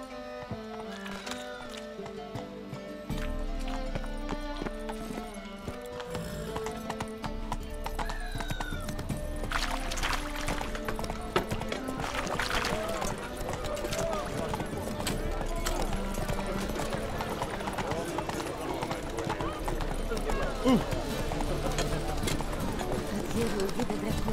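A horse's hooves gallop in The Witcher 3: Wild Hunt, a continuous rhythmic clip-clop over game music, with occasional neighing and someone talking at times.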